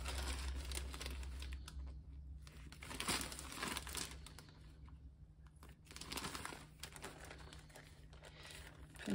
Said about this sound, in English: I'll go ahead and cut the corners of this one.